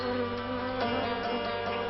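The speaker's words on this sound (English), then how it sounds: "Squadrons of carnivorous rainforest wasps take to the air." Carnivorous rainforest wasps in flight, a steady close buzzing drone of wings with a slight rise in intensity partway through, no voices.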